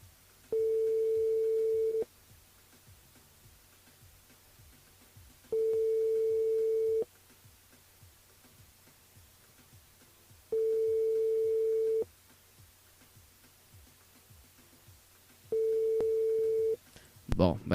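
A telephone line sounds a steady busy tone in four long beeps of about one and a half seconds each, spaced several seconds apart, while a call goes unanswered during a live radio broadcast. Faint background noise sits between the beeps.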